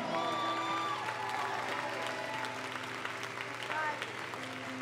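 Church congregation applauds during a sermon, a steady wash of clapping heard somewhat distant and moderately quiet, with voices and a sustained tone underneath.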